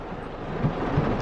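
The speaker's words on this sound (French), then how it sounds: "Regardez comme il pleut" Heavy rain falling outdoors, a dense, steady rumbling wash of noise with low gusty swells, loud and continuous with no voices.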